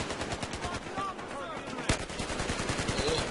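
In the Battlefield Hardline video game, AK rifle gunfire crackles in rapid automatic bursts, with one louder shot near the middle. Faint game sounds and quiet voices run underneath.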